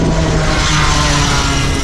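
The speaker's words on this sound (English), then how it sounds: "Moped. Very loud." A loud moped engine drones close by as it passes a cyclist on a road near Brennero, a continuous rough motor roar mixed with wind rumble and no voices.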